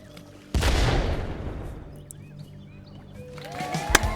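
A grenade explodes in the game Worms W.M.D with a loud, sudden blast and a long rumbling decay, followed by faint chirpy effects and a sharp click near the end.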